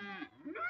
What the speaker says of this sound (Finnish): on mölyävät lehmät